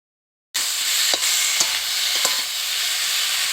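Cauliflower and potato pieces with spices being sautéed in a pan: a sudden, continuous loud sizzle begins after a brief silence, with a few scraping stirs of the spoon, close up.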